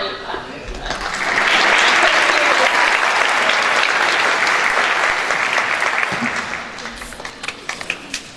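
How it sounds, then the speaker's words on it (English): A middle school graduation audience of parents, teachers and classmates breaks into loud, dense applause that swells, holds steady, then tapers off, with scattered voices and cheers mixed in. "Now you clap."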